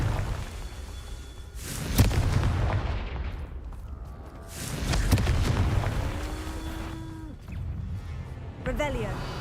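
Confringo fire spells blast in the Hogwarts Legacy video game: two heavy booming explosions land a few seconds apart, each trailing a rumbling roar, among other game effects and voices.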